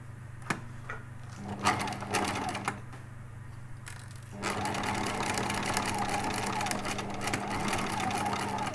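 A sewing machine stitching grosgrain ribbon onto a felt hat, with short bursts of mechanical whirring and clatter at first, then a longer continuous run of stitching, a voice talking briefly over it.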